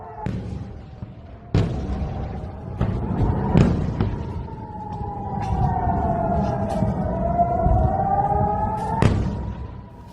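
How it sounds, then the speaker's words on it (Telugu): Air raid sirens in Israel during an Iranian missile attack wail loudly in overlapping rising and falling tones, with several sharp thuds punctuating the blare. "దేశమంతటా ఎయిర్ రైడ్ సైరన్ల మోత మోగుతుంది"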